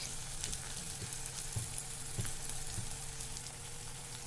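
Half a spoon each of turmeric and chili powder frying in a pan for chicken curry makes a continuous, even sizzle at moderate level, dotted with small pops and a few soft stirring knocks.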